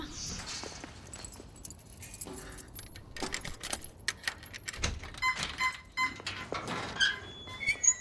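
Keys jangle and clink in short, irregular bursts near the listener, with scattered squeaks and light handling noises and a few faint bright tones in the background.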